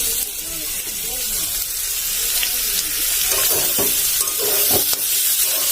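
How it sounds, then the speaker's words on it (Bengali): Soybean chunks and potatoes fry in a home kitchen pan with a loud, steady sizzle and hiss, close by. Occasional stirring clatter and scraping come through, with a voice faintly in the background. "আর এই আলুর সঙ্গে সোয়াবিনটা একটু ভেজে নেব আলাদা করে"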